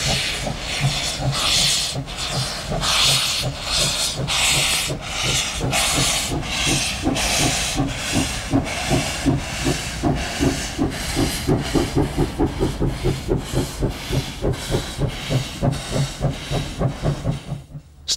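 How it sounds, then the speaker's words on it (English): A Great Western 4-4-0 steam locomotive hauls a cross-country stopping passenger train at a quiet rural station: steady loud hissing steam, then a rhythm of exhaust beats that grows quicker and more distinct, with faint clatter from the wheels and coaches. "a cross-country stopping passenger train calls at a rather quiet rural station on the Great Western"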